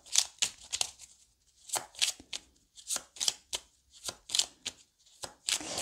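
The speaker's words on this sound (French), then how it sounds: "Je vais remettre des cartes par-dessus" Playing cards being laid down one after another on a stack, a steady series of short crisp slaps and flicks at close range, alone with no voices.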